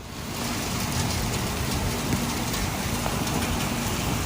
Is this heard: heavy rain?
yes